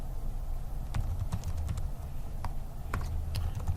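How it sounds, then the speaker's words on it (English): Slow, uneven keystrokes tap on a computer keyboard, sparse clicks close by over a steady low hum with no talk. "And I apologize for typing so slow"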